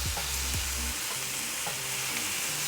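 Steak fajitas sear and caramelize in a hot pan, a dense, loud sizzle running without pause, with a few low knocks and scrapes early on and no voices.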